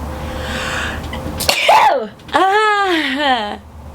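A woman gives one loud, sharp sneeze after a brief intake of breath, then speaks.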